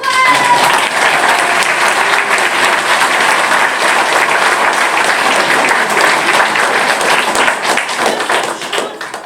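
Audience applause at a talk in Liège fills the room, a dense, steady wash of many hands clapping that holds evenly for about nine seconds before easing slightly at the end.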